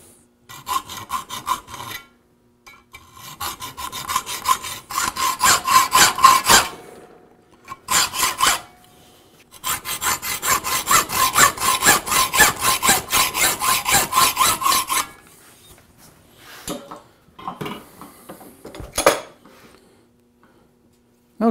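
Rough hand cutting of a steel blank for a custom moulding iron, with close, rhythmic rasping strokes in several bursts separated by short pauses.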